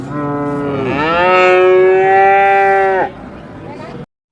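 A Holstein Friesian calf at a busy cattle market at Seenapuram lets out one long, loud moo lasting about two seconds, close by, over faint crowd murmur.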